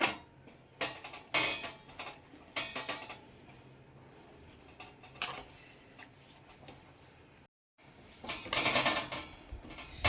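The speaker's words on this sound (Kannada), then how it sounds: "ಇವಾಗ ಒಂದು ಸ್ವಲ್ಪವಾಗಿ ತುಪ್ಪ ಸೇರಿಸ್ಕೊಳ್ಳೋಣ. ಸ್ವಲ್ಪ ಸೇರಿಸ್ಕೊಂಡು ಕಲಸೋಣ." Rice flour, coconut and jaggery dough mixed with ghee in a metal bowl, intermittent clinks and scrapes of a utensil in uneven bursts, with a brief quiet gap before a louder flurry.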